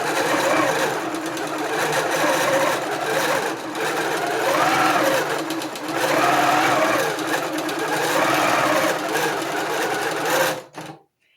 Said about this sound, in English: But now I'm going to start stitching, and literally I press that button.